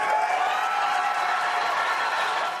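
A debate audience reacts with a broad, steady wash of crowd noise and scattered applause, sustained evenly throughout and heard from a distance.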